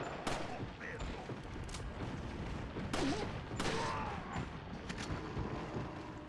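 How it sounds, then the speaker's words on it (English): Shotgun blasts from the video game Resident Evil 4 sound as several loud, booming shots spread across the stretch, over a background of game noise and some speech. "Shotgun."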